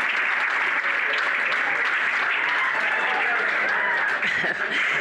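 Loud crowd applause and cheering fill the whole stretch, dense and steady, breaking out after a 10.9 shot by Giordano in the men's 50m pistol final at a 2012 ISSF World Cup in Milan.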